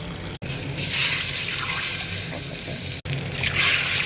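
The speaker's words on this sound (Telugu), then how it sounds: "ఈ నీళ్ళు వేసుకుని అన్నం వండుకుందామండి" Water pours steadily and loudly into a cooking pot of rice with a rushing, splashing sound, broken by two brief cuts, with no talking.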